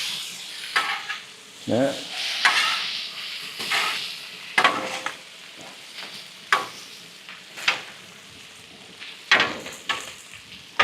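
Hibachi food frying on a Weber Slate 36-inch griddle and being flipped and scraped with a spatula, loud close sizzling broken by repeated sharp metal scrapes and taps at an uneven rhythm, with one brief spoken word.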